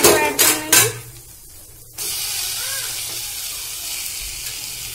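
Masala fries on a slow flame with tomato added, a steady soft sizzle that starts abruptly after a few loud clattering knocks at the beginning.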